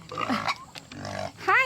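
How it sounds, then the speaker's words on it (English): A young pig in a farm pen, on a round of medicine, gives a few soft, close grunts and snorts, ending in a brief higher squeal. "I wanted to show you guys this piglet"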